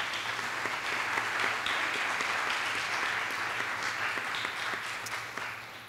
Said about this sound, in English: So a big applause to the team.